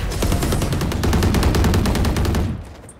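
Rapid automatic gunfire from a weapon fired while running in the tactical shooter Valorant, a loud, steady burst of evenly spaced shots lasting over two seconds before cutting off and fading.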